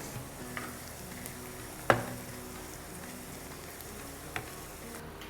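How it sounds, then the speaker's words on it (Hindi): Onions cooking gently in a pan after garlic has browned, for dal sultani: a quiet, steady low sizzle with a sharp utensil clink near the start and a couple of faint taps, with no voices. "अब प्याज को थोड़ा सा पकाना है"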